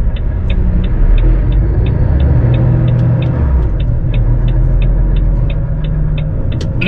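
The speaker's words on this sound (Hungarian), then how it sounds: "Az autókat még elmennek." Cars pass on the road near a railway-station parking lot, heard from inside a vehicle as a loud, steady rumble, with a regular turn-signal ticking throughout.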